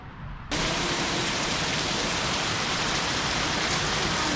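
Steady, heavy rain pours down in a dense, even hiss that swells after a brief quieter moment at the start.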